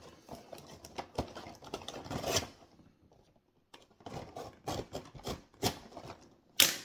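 A Hot Wheels multi-pack blister package being opened: irregular crinkling plastic and cardboard crackles and snips in short bursts with a brief pause midway, fairly close and quiet, no talk.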